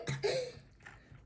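A single short cough, close and fairly soft, with a brief throaty burst followed by a fainter trailing breath, heard during a Roblox Bed Wars gaming session.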